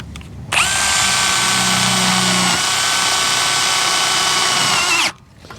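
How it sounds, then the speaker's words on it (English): Power drill driving self-tapping screws while fastening parts of a VersaTube steel shelter frame, one continuous loud whine lasting about four and a half seconds that starts and stops abruptly. "we're going to send a couple self-tappers down into these"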